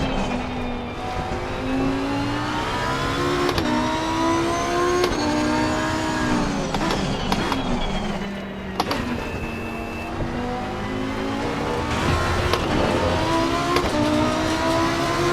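Race cars in Assetto Corsa Competizione on PS5 scream through repeated climbing gear pulls and sharp shifts, with rising and falling engine tones, occasional tire squeal and other cars passing during a final lap, and no voices.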